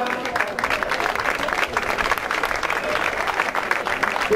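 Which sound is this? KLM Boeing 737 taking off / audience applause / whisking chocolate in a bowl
audience applause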